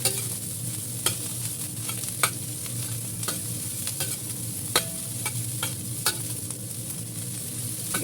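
Fried rice with carrot stir-fried in a pan, a steady close sizzle broken by scraping and knocking of the spatula against the pan at irregular intervals, with no talking.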